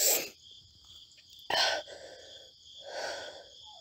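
A soft sneeze-like burst from a young woman in a quiet room, followed by a second breathy sneeze or gasp about a second and a half later, close and gentle over faint background hiss.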